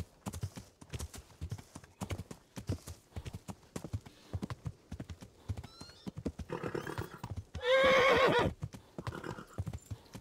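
A horse in the video game Kingdom Come: Deliverance clops along with steady hoofbeats, then lets out a loud, close neigh near the end.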